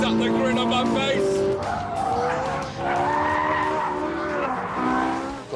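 A Ferrari in a car racing video game, with its engine revving hard and tires squealing and skidding in long wavering screeches, loud and continuous, while someone talks over it.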